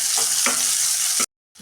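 Chopped onion and curry leaves fry in hot oil in a pan, giving a loud, close, steady sizzle with a couple of stirring scrapes before it cuts off abruptly.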